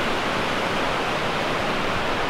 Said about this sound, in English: we're on top of where those waterfalls come down at